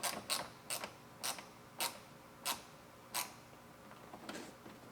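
Screws being fitted into the hinge cover of a Mustang GT during reassembly, heard as a series of sharp, separate clicks and ticks at uneven intervals, close and fairly quiet.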